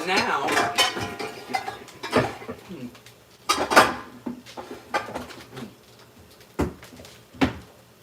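Saucepan being pulled out of a kitchen cupboard, several sharp metallic clanks and knocks of pots and pans near the microphone, spread irregularly across the stretch with quiet rustling between.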